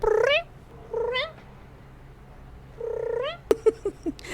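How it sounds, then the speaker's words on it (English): A creature in the video game House Hunted 2 gives chirpy, cat-like trilling purrs, several rising chirps with pauses between them, followed by a quick run of short clicking chirps, close and clear. "It made a weird chirpy purr noise."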